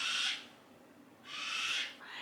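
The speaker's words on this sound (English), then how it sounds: "I hate those birds." A bird gives two breathy, hissing owl-like calls about a second apart, fairly faint, with quiet between them.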